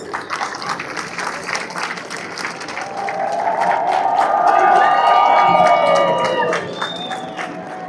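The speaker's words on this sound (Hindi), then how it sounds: "एक बार जोरदार तालियां सभी लद्दाख के लिए।" Outdoor crowd applause at an Independence Day celebration on a polo ground in Leh, Ladakh, with clapping building into a loud swell of cheers and whoops before easing, a voice speaking early on.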